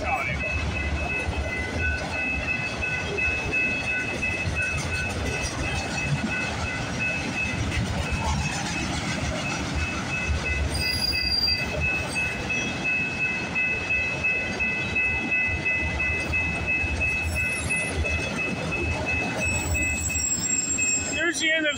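A long CPKC freight train hauling auto racks rolls past at night, a continuous loud rumble of wheels with steady clatter and high metallic squeals ringing over the top throughout.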